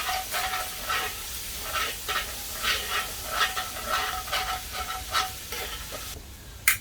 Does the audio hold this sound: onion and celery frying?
yes